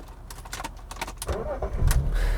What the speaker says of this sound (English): oh, look at that, I stalled the car.